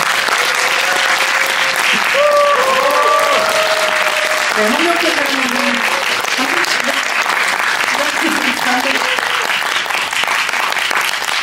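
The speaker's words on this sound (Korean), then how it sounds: "큰 박수 부탁드립니다." An audience at a film screening and director's-cut talk for Harbin gives loud, sustained applause to welcome director Woo Min-ho and cinematographer Hong Kyung-pyo, a dense roar of clapping throughout while a host speaks over it.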